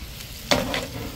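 Food being stirred in a sizzling pan while cooking in a van parked by the beach, a soft frying hiss broken by a sudden scrape and clatter of the utensil.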